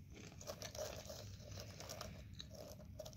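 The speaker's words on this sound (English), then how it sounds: "Very crunchy, sorry about the crunching." Loud, close crunching of apple cider donut flavored cashews being chewed, a steady stream of crisp crackles with no talking.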